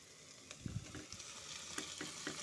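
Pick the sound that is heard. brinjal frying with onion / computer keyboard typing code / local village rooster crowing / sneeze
brinjal frying with onion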